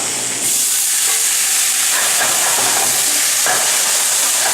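Spinach tossed into a hot pan with browned garlic sets off a sudden loud burst of hissing and sizzling that stays steady and close, with small stirring crackles. No voices.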